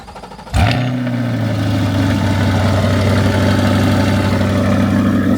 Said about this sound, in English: quick morning cold start of the C8.